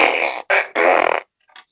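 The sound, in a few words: fart machine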